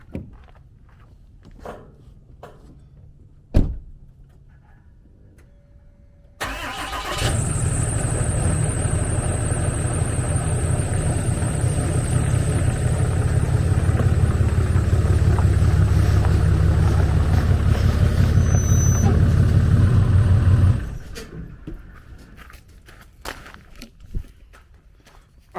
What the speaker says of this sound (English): Let me pull the truck forward and I'll show you.